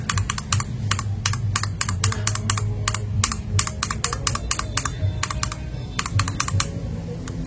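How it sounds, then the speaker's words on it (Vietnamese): Close, crisp clacks of TTC Tiger mechanical switches as keys are typed in steady rapid clusters, each press sharp and distinct, continuing for several seconds with no voices. "Cái con này nghe cũng rất là hay"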